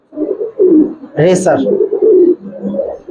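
Racer pigeons in a loft coo in soft, repeated throaty phrases up close while someone talks over them, one louder burst of calling rising midway.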